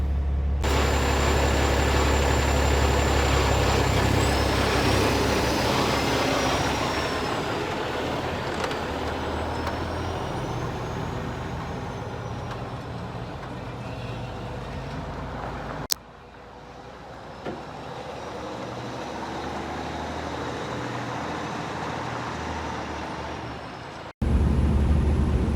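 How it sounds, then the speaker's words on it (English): A truck hauling a trailer along a wooded road gives a steady, close engine drone that holds throughout, with two abrupt cuts in the sound. "Trailer is running great. Truck is running great."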